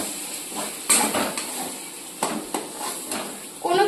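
Ground lentil paste drops into hot oil seasoned with a pinch of asafoetida in a pan, giving a burst of sizzling and frying with scattered clinks of utensils against the pan, fairly close and without speech.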